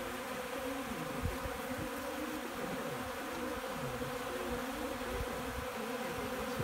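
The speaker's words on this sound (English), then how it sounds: "we have a good collection of bees actively foraging on this ultra bee" Honeybees foraging on Ultra Bee feed in an apiary on a cold day, a continuous dense hum of many wings, steady and even throughout with no voices.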